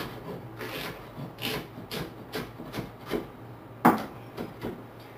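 A knife chops onion finely on a board for seitan, a run of quiet, irregular cutting taps close by with one sharper knock, no talking.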